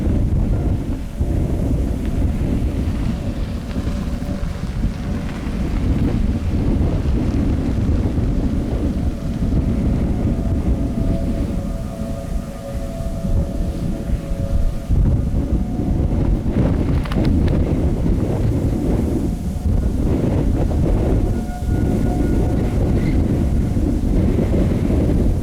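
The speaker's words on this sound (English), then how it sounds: "This is a rainy, high precipitation supercell." Heavy, steady roar of wind and rain from a high-precipitation supercell thunderstorm in Nebraska, loud and unbroken throughout with gusty buffeting on the microphone and a low rumbling undertone.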